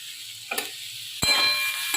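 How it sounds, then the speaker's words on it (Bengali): Potatoes frying in a pan with a pinch of turmeric sizzle softly while a utensil stirs them, giving a few sharp scraping clacks against the pan over a quiet hiss. "হলুদ দিয়ে একটু নেড়ে নেবো"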